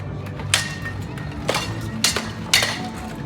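Four sharp metallic clashes of longsword blades ring out at uneven intervals during a sparring bout over a steady background murmur.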